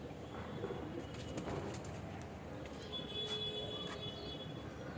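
Pigeons in a fancier's loft in West Bengal coo and stir amid steady broadband background noise, with a few thin, high bird-like calls surfacing in the second half.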